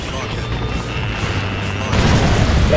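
A tank blowing up in the combat flight game Ace Combat Assault Horizon, a steady loud rumble of battle noise that surges into a heavier blast near the end, with radio-style voices over it.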